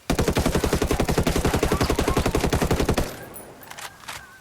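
Rapid fully automatic rifle fire in a shooter game, a loud, steady stream of roughly thirty evenly spaced shots lasting about three seconds, then stopping abruptly with only faint clicks and handling noise afterward.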